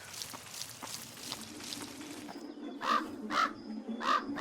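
In the video game Pumpkin Panic, a crow in the woods caws four times in a steady rhythm, loud and close, over soft rustling, trickling ambience.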